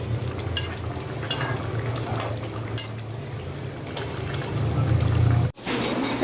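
Cumin powder being stirred into chicken curry gravy in a pot, with repeated metal spoon scrapes and clinks over a steady bubbling simmer, close and moderately loud.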